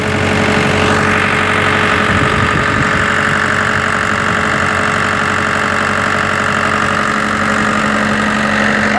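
A concrete pump's engine idles steadily on a ballpark construction site, a loud, continuous mid-low rumble with a faint knocking pulse and a constant hum running through all nine seconds, with no voices.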